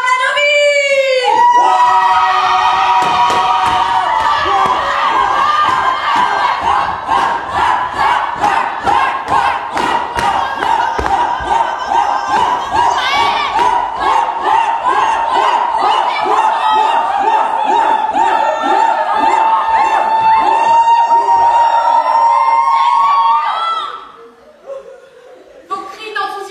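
A large crowd shouts enthusiastically in a dense, continuous roar with rhythmic thumps and chants, building loudly for over twenty seconds before cutting off abruptly.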